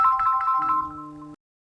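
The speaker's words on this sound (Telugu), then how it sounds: "ఇక్కడైతే వాయిస్ ఇస్తుంటే ఫోన్ వచ్చిందండి" A mobile phone ringing out in a farm field, a short bright electronic ringtone melody at close range that cuts off abruptly after little more than a second, with no talking.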